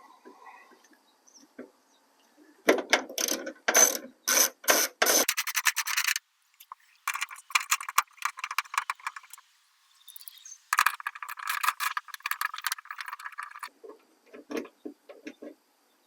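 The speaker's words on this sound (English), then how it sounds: "remove these two bolts and this nut using a 10mm socket and ratchet." Clicking and ratcheting bursts from a 10mm socket and ratchet loosening bolts on a 2022–2023 Honda Civic near the taillight, coming in close, fairly loud runs of rapid ticks separated by short pauses.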